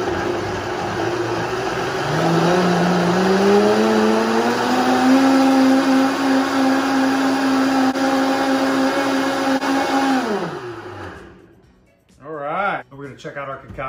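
A Vitamix blender runs at full power, its motor whine ramping up in pitch and holding a loud, steady roar for about ten seconds before spinning down, followed by brief clatter and voices.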